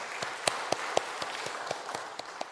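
A church congregation applauds during a Sunday afternoon worship service, with scattered individual claps standing out over a steady wash of clapping throughout.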